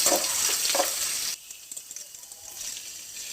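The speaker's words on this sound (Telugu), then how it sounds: "చిన్నగా కట్ చేసుకున్న టమోటాలు, ఎర్రగడ్డలు ఆయిల్లో వేసి మగ్గనిద్దాం." Chopped tomatoes and onions fry in oil for a Telugu broad bean fry, a loud close sizzle with stirring that drops suddenly to a quieter crackle and then builds again.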